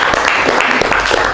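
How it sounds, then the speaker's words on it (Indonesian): Classroom applause as students clap for their classmates, a dense burst of many hands clapping steadily and close, filling the whole moment without speech. "tepuk tangan untuk teman kalian"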